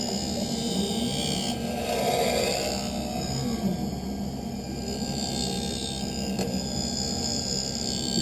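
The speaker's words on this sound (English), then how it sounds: "So it's now putting the bevel onto the lens." Lens edging machine grinding a bevel onto an eyeglass lens, a continuous rasping, whirring grind heard close up with slight swells in intensity and a faint click near the end.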